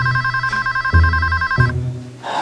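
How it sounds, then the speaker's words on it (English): A telephone rings loudly and close, with a steady trilling electronic ring that repeats in bursts over a low hum, cutting off briefly before starting again. "Why aren't you answering the phone?"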